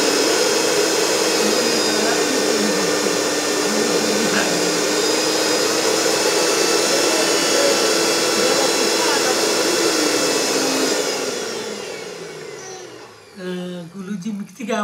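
A loud mixer grinder grinding spices whirs steadily at high speed for about twelve seconds, then winds down and stops with some rattling at the end.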